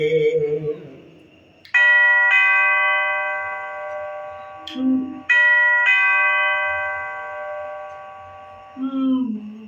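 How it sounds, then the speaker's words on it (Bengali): A doorbell in a radio drama rings twice, each long electronic ding-dong chime sustained and then decaying, loud and close. Brief voices and a short remark come before the chimes, between them and after them. "আর বেল বাজাবি রে"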